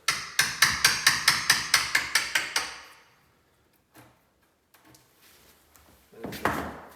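A hammer taps a chisel while an entrance door lock is fitted, about a dozen sharp evenly spaced strikes over two and a half seconds, then near silence with faint handling knocks and a soft scrape at the end.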